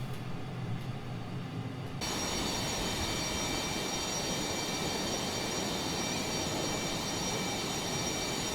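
Landing gear lowering on an FA-18F in the MSFS flight simulator, a steady loud rush of airflow and mechanical rumble that swells after a short quieter start and holds constant.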